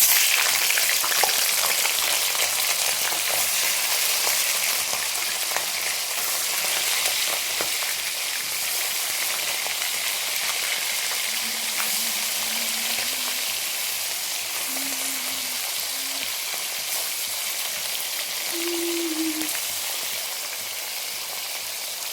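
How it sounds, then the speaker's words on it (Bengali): Hilsa fish frying in oil in a wok, a steady close sizzle and crackle running the whole time with no talk. "মাছটা ভাজবো"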